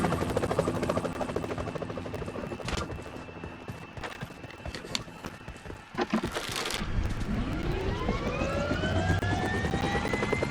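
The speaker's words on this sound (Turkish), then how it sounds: "Helikopterin bir tanesi benim biliyorsunuz." Helicopter in the mobile battle royale game PUBG Mobile, its rotor thrumming loudly and continuously throughout, with brief sharp bursts of gunfire near the middle and the engine pitch sweeping as it passes.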